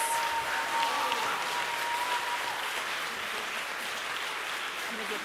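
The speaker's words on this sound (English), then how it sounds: "Can we get a round of applause for all of the accomplishments?" Audience applause at a scout troop Court of Honor, a steady even patter lasting several seconds and slowly thinning, with a faint tone and murmuring under it.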